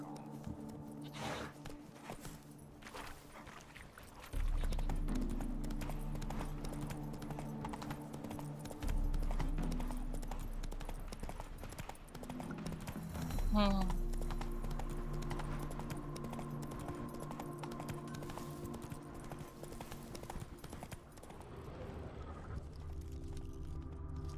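Rhythmic clip-clop of a heavily laden horse's hooves in the video game The Witcher 3, trotting steadily at moderate distance, with a few thuds and soft shuffling sounds mixed in over quiet ambience.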